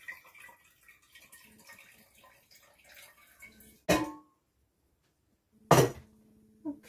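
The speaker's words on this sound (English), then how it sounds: "I think I'm gonna need a little more water in this jar." Water is poured into a jar in two short, separate splashes, close and fairly quiet, with near silence between them.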